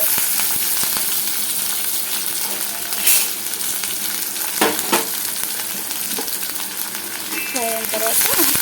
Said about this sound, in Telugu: ఇవన్నీ కొంచెం ఆయిల్లో ఫ్రై అయిన తర్వాత